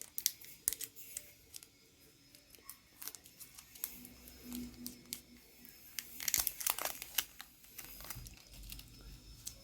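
Protective film is peeled off an MD3 Max smartwatch, producing close, scattered crinkling and light ticking that swells into a louder rustling burst near the end, with no voices.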